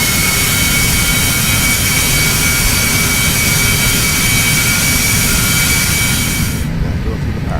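A heavily loaded airliner in Flight Simulator X roars as its jet engines throttle up to get rolling again, a loud continuous broadband rumble and whine that cuts off abruptly near the end.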